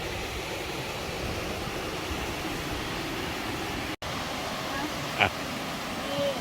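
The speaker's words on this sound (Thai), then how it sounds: "โอ้เนี่ยน้ำตกเสียงดังตกแล้ว" Loud waterfall beside an outdoor dining area at a budget resort, a steady, dense roar of falling water filling the whole clip, broken by a brief click near the end.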